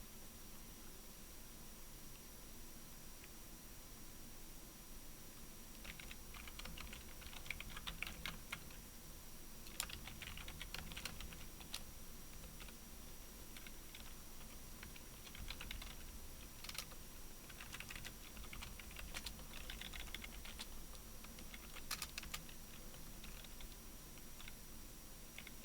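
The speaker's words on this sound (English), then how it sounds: "while I'm typing" Rapid clicking of typing on a computer keyboard, light and fairly close, in irregular bursts over a steady background hiss, with no one speaking.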